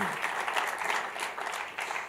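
A church congregation at a Tuesday service applauds, a continuous rushing wash of clapping at moderate volume with faint voices mixed in.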